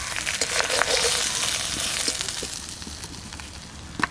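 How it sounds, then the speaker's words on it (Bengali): Stingray (sankar) fish fries in hot oil in a pan, village-style cooking, giving a steady, close crackling sizzle with scattered sharp pops and a louder spit near the end. "আমার মাছ ভাজা হয়ে গেছে, এবার মশলাটা দিয়ে কষাই নিই।"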